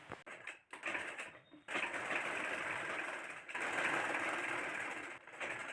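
Pajama pieces are joined on a sewing machine with a half-inch seam: a few brief starts, then a long, steady whirring stitch run up close, briefly pausing near the end.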